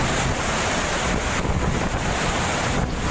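Floodwater from a river swollen by monsoon rain in Botad, Gujarat, surges over a bridge. It makes a loud, dense, continuous roar with wind buffeting the microphone.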